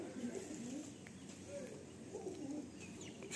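A female black-tailed Madrasi pigeon coos softly in a close, low series of repeated throaty calls over a steady background hum.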